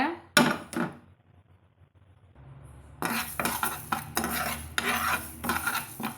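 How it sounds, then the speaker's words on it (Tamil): Dal for temple-style venpongal is dry roasted in an empty pan, a few metal clinks followed by a quiet pause, then a steady run of scraping, rattling stirs against the pan, close by, with no speech. "அந்த பருப்பை வந்து இப்போ லைட்டாக வெறும் வானலியில் வறுத்து எடுத்துக்கலாங்க"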